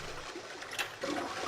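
A toilet in the video game 999 flushes after its string is pulled, a steady rush of running water close by that swells louder toward the end, with no voices.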